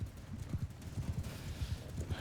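Horse hooves gallop in a steady clip-clop rhythm as cavalry and horse archers charge through a battlefield in the Mount and Blade II Bannerlord game, many hoofbeats overlapping at moderate loudness with no talk.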